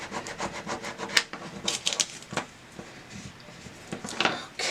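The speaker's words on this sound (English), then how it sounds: "I'm going to go ahead and burnish this one" Short rubbing and scraping strokes of a tool burnishing a Cricut craft decal, irregular and close, with soft pauses between passes.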